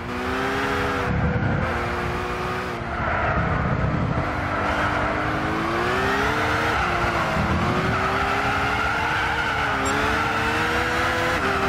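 In Gran Turismo 6 a car brakes hard on a rain-soaked track, engine note dropping and rising while tires skid and squeal continuously, loud and close, with no voices.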